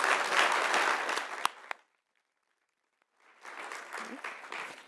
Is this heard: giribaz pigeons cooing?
no